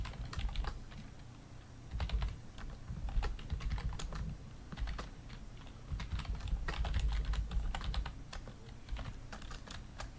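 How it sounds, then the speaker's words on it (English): Someone types on a computer keyboard with a close, irregular stream of clicking keystrokes over a low background hum, with no talk. "As you can see, there's a lot of typing going on."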